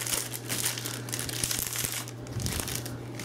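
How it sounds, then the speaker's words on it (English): Crinkling plastic wrap being pulled off a book, steady crackles and rustles lasting throughout, close and moderately loud, with a low hum underneath. "Let me take it out of the plastic."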